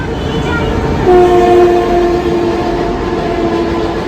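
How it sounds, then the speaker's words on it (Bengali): A train passes overhead beside a flower nursery market at Khirai, rumbling steadily and loudly. Partway through, a long, clear horn sounds and lingers while the rolling noise continues. "উপর দিয়ে ট্রেন যাচ্ছে"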